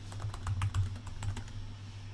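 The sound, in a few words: typing a reply on a keyboard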